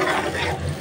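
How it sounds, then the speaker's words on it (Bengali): Curry of taro stolons and spices sautéing in a pan, a steady close sizzle with soft stirring that runs without a break for under a second. "তো আস্তে আস্তে কষানো হোক তরকারি"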